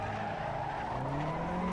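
Tires squeal hard as a race car powers out of a corner in Assetto Corsa, a sustained rising screech over the revving engine, loud and close.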